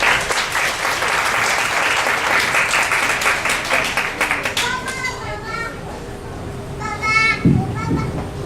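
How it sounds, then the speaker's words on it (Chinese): An audience claps to welcome a church gospel dinner play, dense applause mixed with children's chatter and cheering, thinning toward the end as voices take over. "那我们用一个掌声来欢迎这出戏剧《Everything》"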